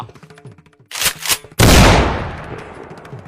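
A sharp, loud gunshot cracks out and rings into a long decaying boom, preceded by a brief burst of rattling noise.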